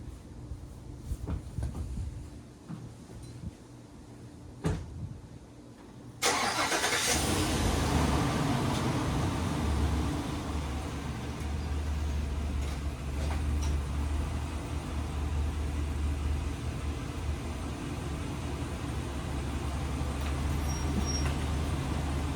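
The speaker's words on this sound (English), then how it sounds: "So now we're just gonna pull the truck up on the ramps." A truck pulled up onto ramps for an oil change, its engine rising from a low idle to a steady loud drive as it climbs, close by and continuous.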